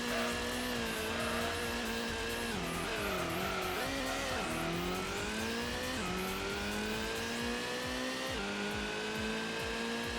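Several racing cars in the Gran Turismo video game on the Grand Valley circuit, including a Subaru Impreza, a Nissan GT-R and an estate car, roar continuously with engines rising and falling through gear changes and occasional tire squeal, loud throughout.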